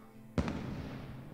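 A single sharp firework bang bursts out in the video game Sonic Frontiers, followed by a faint crackling tail, with another pop starting at the very end.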